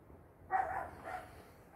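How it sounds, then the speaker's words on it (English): A dog gives two faint, distant barks about half a second apart over a quiet background. "the dog's having a bark"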